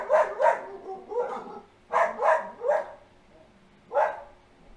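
A dog barks in bursts, two or three quick barks at a time with short pauses between, fairly close and clear.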